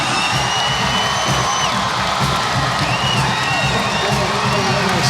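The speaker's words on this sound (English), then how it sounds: "He wants the crowd to get into it." Dense, loud volleyball arena crowd cheering and whooping without a break, with shrill shouts and whistles rising above a steady roar throughout.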